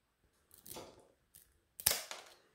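Nail clippers trimming an elderly cat's overgrown claw, two or three sharp close snips separated by short pauses in a quiet room.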